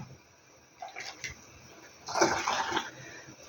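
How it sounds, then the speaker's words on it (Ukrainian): Boiling water poured from a kettle over peaches in a glass jar for winter compote, a short quiet trickle followed by a louder, fuller gushing pour into the jar before it tapers off. "Тому я поставила воду кип'ятить, наливаю на персики і залишу на 30 хвилин."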